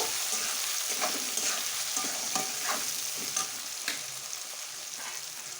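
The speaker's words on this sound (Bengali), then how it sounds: "পেঁয়াজ পেঁয়াজটা একটু লাল করে ভেজে নেব" Onions frying in a pan until reddish, a close steady sizzle broken by rhythmic spatula stirs and scrapes, easing slightly toward the end, with no voices.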